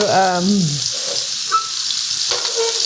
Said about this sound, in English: we're just trying to get a little brown color on these